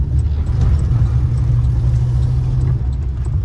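A car driven hard through a turn like a rally car, its engine giving a loud, steady low rumble that holds for the whole stretch with no voices.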